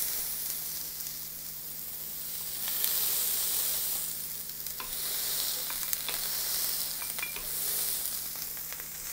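Burger patties frying in a hot pan, sizzling steadily with a few sharp scrapes and knocks as a spatula presses them flat; close, continuous hiss with no talking.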